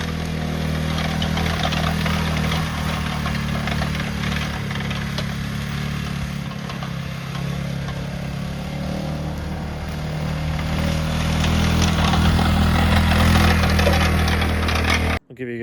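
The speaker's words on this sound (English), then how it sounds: "Best tractor I got, even though I got one sitting in the shed." A tractor engine idles steadily on a food plot, a loud continuous low rumble with a deep droning hum held throughout before cutting off abruptly at the end.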